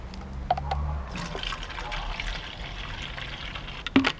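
Water pours steadily from a tap into a DIY snowfoam pump sprayer bottle already holding car wash shampoo, a continuous close filling rush with a brief clunk at the end.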